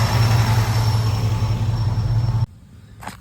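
Ford truck engine idling with the AC clutch engaged, a steady low hum and rumble that cuts off abruptly near the end, leaving near silence with a faint brief sound.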